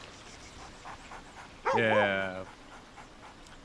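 A puppy in Baldur's Gate 3 gives a short burst of panting and whimpering yips, loud against quiet game ambience; a voice briefly murmurs beforehand.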